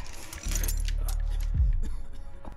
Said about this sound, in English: He dropped his keys.